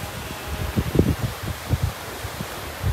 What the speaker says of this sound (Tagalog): Habagat pa rin guys yung hangin, pero hindi na siya malakas.